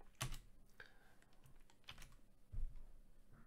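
Computer keyboard typing as code is entered, a quiet run of light clicking keystrokes with a few sharper taps spread over a few seconds, close and alone.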